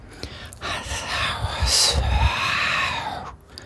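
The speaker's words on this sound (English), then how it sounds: "They're actually just me whispering to my mic" Breathy, airy whispering close to a microphone, sustained for a few seconds with hissy sibilant bursts and no clear voiced speech.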